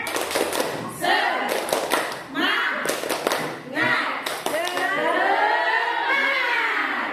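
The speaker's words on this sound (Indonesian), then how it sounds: "Sekali lagi, tepuk semangat." Audience performing a rhythmic spirit clap at a teachers' session, bursts of synchronized claps in a patterned rhythm, with speech from a leader between and after the clapping.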